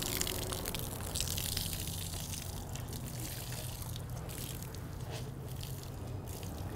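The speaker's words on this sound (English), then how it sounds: "we're gonna take it outside and wring it on the ground." Water gushes and splatters onto the ground outdoors as a car-washing mitt is wrung out, a steady, soft liquid pour with trickling and dripping, fairly faint and without talk.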